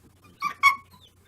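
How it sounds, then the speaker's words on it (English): A young puppy being trained to bark gives two short, close squeaky whines in quick succession against a quiet room with a low hum. "here you'll see her squeak and kind of whine and do some vocalization"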